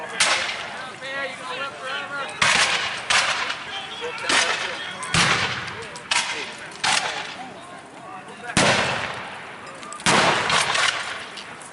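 Musket gunfire cracks out at a reenactment of the 1775 Battle of Great Bridge, several sharp volleys and single shots spaced a second or two apart, with a voice talking underneath.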